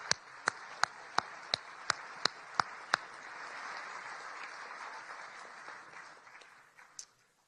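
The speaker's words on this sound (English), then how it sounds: "Let's give Caitlin another big round of applause." A few sharp, isolated claps ring out at the start, then a soft, diffuse wash of crowd applause in a large banquet hall at a press correspondents' dinner, fading out with one last clap.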